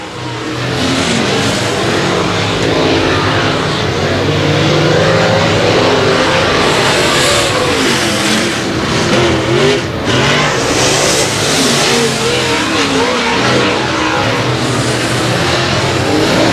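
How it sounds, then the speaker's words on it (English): Race car engine revving hard near the flag stand at a speedway oval, a loud continuous roar with rising and falling pitch as cars circle the track, other engines blending in the background. "Austin Thies really turning some RPMs right there at the flag stand."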